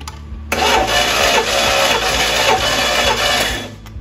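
An engine cranks steadily on the starter during a cylinder compression test on number seven cylinder, a loud continuous rhythmic churning with regular pulses lasting a few seconds before stopping.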